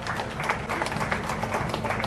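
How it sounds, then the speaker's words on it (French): Crowd at a heritage inscription ceremony for the Monts Madara cultural landscape applauding a gift, a thick, continuous patter of many hands clapping at a moderate distance. "Veuillez encore applaudir pour ce présent,"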